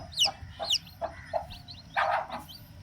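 A country hen and her newly hatched chicks make close, high, quick peeping chirps in short repeated bursts, with a longer cluster of calls near the end.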